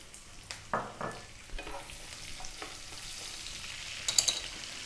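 Onion drops into hot oil with curry leaves and is stirred, making a steady sizzle with a few scraping stirs and bright spits near the end, no speech.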